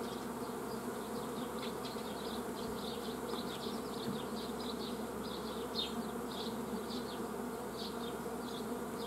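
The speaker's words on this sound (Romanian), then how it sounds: "Un stup cu trei familii." Bees hum steadily at a hive, a dense, continuous near buzz with individual bees flitting past, and no one speaking.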